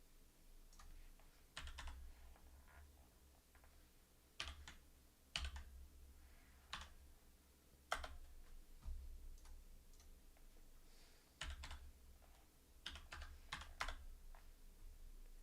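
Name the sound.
typing on a computer keyboard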